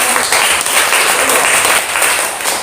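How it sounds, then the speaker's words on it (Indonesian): An audience in a class presentation applauds the writer, a steady, loud wash of many hands clapping at once, close and continuous for nearly three seconds without talk over it. "kita berikan dulu tepuk tangan kepada penulis"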